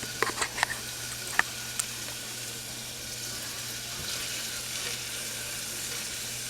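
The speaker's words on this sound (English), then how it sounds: "my onion there, sweat that out" Chopped onion sweating in a pan for a Guinness BBQ sauce, a quiet, steady sizzle with a few light clinks of utensils near the start and no talking.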